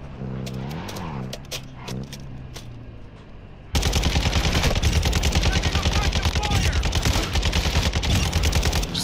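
Rapid bursts of automatic gunfire crackle close and loud in a Call of Duty DMZ firefight, a sustained stream of shots after a quieter opening with scattered single cracks.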